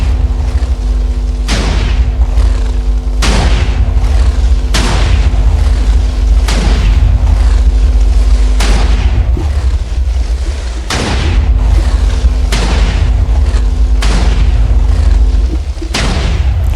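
A series of loud, deep booming Minecraft explosions, roughly a dozen at irregular intervals, each with a heavy low rumble over a constant droning background.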